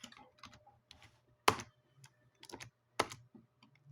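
Quiet, close keystrokes on a computer keyboard as a password is typed, a few irregular taps with several sharper clicks spaced about a second and a half apart.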